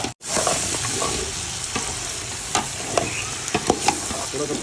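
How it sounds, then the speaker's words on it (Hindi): Tomatoes are added to mutton karahi frying in oil and stirred, giving a steady sizzle with scattered scraping clicks of the spoon against the pot, close and continuous. "बस अब इसमें टमाटर ऐड करने, ये अपना ऑयल छोड़ेगा, फिर उसके बाद इसमें टमाटर ऐड करना।"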